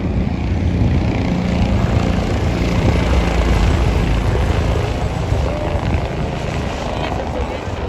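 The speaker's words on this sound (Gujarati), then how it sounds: "હેલિકોપ્ટર કન્ટિન્યુ આવી જાય કરે છે." Helicopter rotor drone near the Kedarnath helipad in the Himalayas, a steady, loud whirring roar that fills the whole stretch without letup, with voices faintly mixed in.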